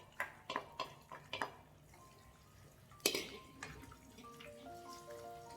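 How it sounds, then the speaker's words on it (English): A utensil scrapes and taps in a pan while runny eggs cook with fried bitter gourd, several quick clinks and a louder knock, with quiet sizzling in between. "I'm going to stir it."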